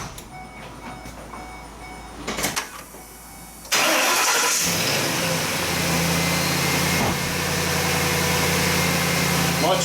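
A Ford van engine with a newly repaired fan and serpentine belt and pulley cranks with some clunks, then catches and settles into a steady, smooth idle that stays loud and close.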